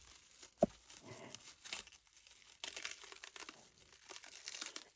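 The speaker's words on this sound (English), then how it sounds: "remove the cling film. That's the theory anyway. Yeah, it's coming off." Cling film is peeled slowly off a set epoxy resin surface, giving faint intermittent crinkles and soft tearing rustles with one sharp snap near the start, close and quiet.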